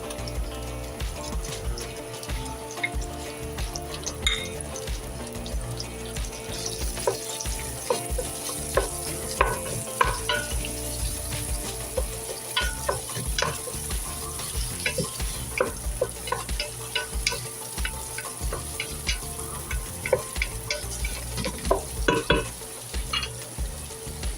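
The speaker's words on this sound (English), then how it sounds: "Add the sausage, stir and brown until just cooked through, about 4 to 5 minutes." Sausage browns and sizzles in a pot for a lentil soup while a utensil stirs it, with steady frying crackle and frequent scraping clinks close up, and no talking.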